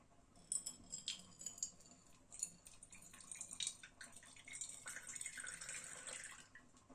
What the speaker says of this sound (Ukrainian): зараз в стакан ми потихеньку будемо наливати водичку